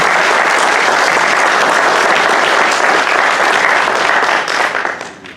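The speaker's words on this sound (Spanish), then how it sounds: "Recibámoslos con un aplauso" Audience at a book presentation breaks into loud, dense applause from a large crowd, sustained and even for several seconds before tapering off at the end, with no speech over it.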